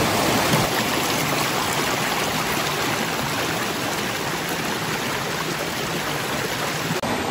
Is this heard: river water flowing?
yes